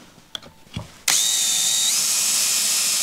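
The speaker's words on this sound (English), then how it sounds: "as you push down, the drill engages" A power drill spins up abruptly after a couple of faint clicks and runs steadily at high speed, boring a pilot hole in wood, with a slight pitch shift partway through; close and loud, with no talking.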